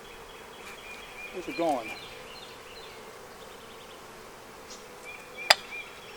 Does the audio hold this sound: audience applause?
no